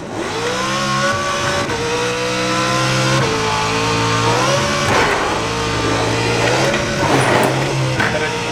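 A car engine revs high and steady while drifting sideways in a racing simulator video game, whining tones rising and falling with gear changes and a faint tire squeal, loud and close throughout.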